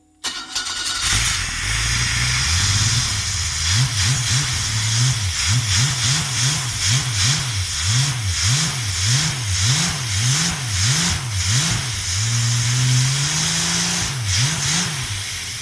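A freshly tuned car engine, running warm after a tune-up, cranks and catches, then revs repeatedly in a steady rising-and-falling rhythm before holding a higher pitch; loud and close, with no talking.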